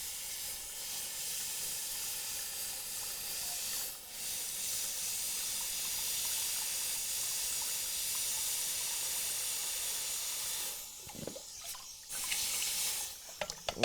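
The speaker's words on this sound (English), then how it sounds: "then we'll reheat it to critical temperature and go for the quench to harden" Red-hot forged iron nail header plunged into water, giving a long steady hiss of steam that holds for several seconds, then breaks into bubbling, sputtering and splashing near the end.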